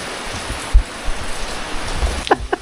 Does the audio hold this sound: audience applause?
no